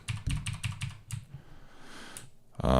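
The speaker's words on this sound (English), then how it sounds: "I can hear some keyboard noise coming through it" Computer keyboard typing picked up by a desk-stand microphone, a quick burst of close, sharp keystrokes that slows and fades, then a louder thump at the end.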